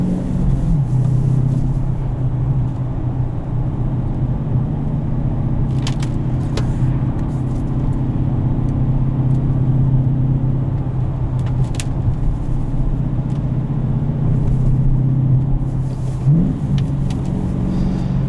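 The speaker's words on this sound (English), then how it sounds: "Rev match downshifts are extremely easy to do." A 2020 Dodge Challenger Scat Pack Shaker with a manual gearbox, its engine heard from inside while driving as a steady loud low rumble with slight rises in revs.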